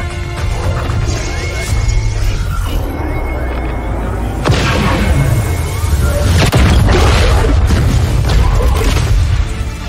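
Cannon hits exploding on a ship in the XCOM 2 video game, a loud chaotic barrage of crashes and booms with debris clatter, overlapping impacts throughout.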